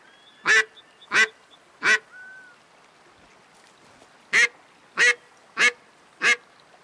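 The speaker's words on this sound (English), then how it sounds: "That's wild duck." Wild ducks calling in the Way of the Hunter hunting game: sharp, loud quacks near the listener, three in quick succession, then a pause and four more evenly spaced, with no talking.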